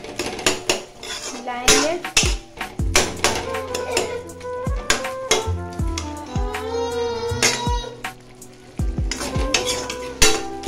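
Pumpkin bhujiya stirred with a metal spoon in a pan, giving repeated loud scrapes and clatters against the metal over a soft sizzle, with brief talk in between.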